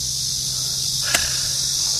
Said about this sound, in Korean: 귓가를 울리는 매미 소리가